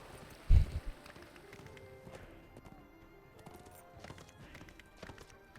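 Favourite steed in The Lord of the Rings Online trotting along, with quiet, even clip-clop hoofbeats and one louder thump near the start.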